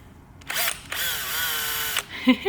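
A drill spinning a popsicle-stick mixer whirs steadily for about a second and a half, high-pitched and close, with a brief burst before it and clicks after it stops.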